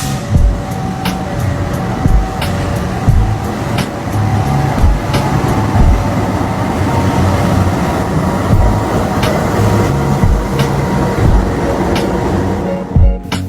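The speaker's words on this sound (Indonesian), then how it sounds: "Lokomotif CC206 merupakan lokomotif diesel elektrik buatan perusahaan asal Amerika, yaitu perusahaan General Electric Transportation." A GE CC206 diesel-electric locomotive rumbles past with a loud, steady heavy mechanical roar, overlaid by repeated sharp clanks and rail knocks from the passing wagons throughout.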